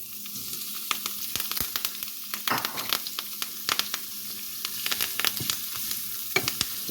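Onions sizzle and fry in two tablespoons of olive oil in a hot skillet, a steady crackling hiss broken by frequent sharp pops and the scrape of stirring, close and fairly loud with no talking.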